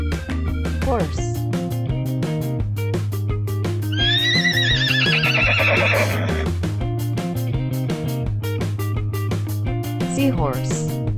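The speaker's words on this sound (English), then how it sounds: "Horse." A toy horse neighs from a farm-animal surprise toy, a bright whinnying call rising over steady background music, with a voice naming the animal briefly.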